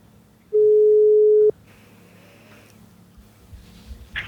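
A single steady telephone ringback tone sounds while a call is placed, holding clear and fairly loud for about one second before cutting off, followed by quiet room noise.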